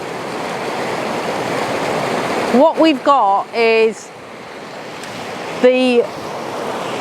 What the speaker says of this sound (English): just the waterfalls cascading down off this ledge